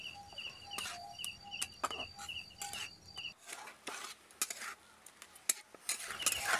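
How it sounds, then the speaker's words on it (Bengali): Grated coconut is stirred into melted jaggery for pitha filling, giving soft close scraping and clinking of a spoon against a pan in irregular strokes, with faint sizzling and birdsong in the background. "এবার এর মধ্যে আমি নারকেল কুড়ো দিয়ে দিচ্ছি। নাড়াচাড়া করে পুরটা তৈরি করে নেব।"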